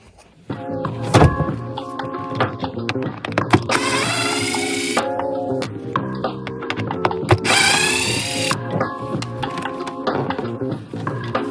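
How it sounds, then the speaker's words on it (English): Close-up work removing a Remco Aqua-Jet RV water pump brings a humming motor whine, two longer rising bursts of powered screwing and scattered clunks and rattles of metal parts throughout. "now I'm going to go ahead and unscrew the pump and take the pump out"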